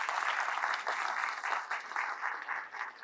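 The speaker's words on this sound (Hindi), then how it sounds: "जोर से ताली बजाओ." Audience applause fills a lecture hall at a medical teaching session, a dense steady patter of many hands clapping at once, loud and continuous with small swells throughout.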